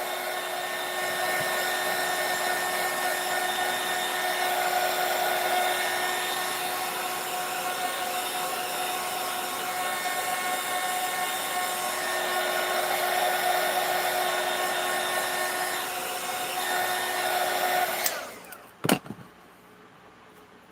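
A hair dryer drying paint, a loud steady whirring blow held close for about eighteen seconds before it switches off, followed by a few faint knocks.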